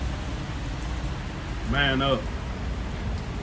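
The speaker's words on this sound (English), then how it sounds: "Riding the rain." Rain storm falling steadily during a motorcycle trip near Wytheville, Virginia, a constant hiss of rain on surfaces, with someone briefly speaking over it.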